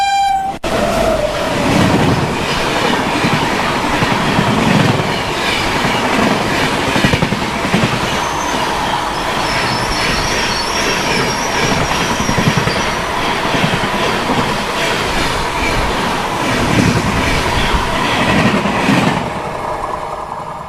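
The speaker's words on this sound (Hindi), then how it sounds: "हमारी ट्रेन वापस से चल चुकी है जयतीपुर से" Intercity Express passenger train hauled by a WAP-7 electric locomotive rolling along the rails between Kanpur and Lucknow, a steady loud rumble with wheel clatter throughout, heard from inside the moving train.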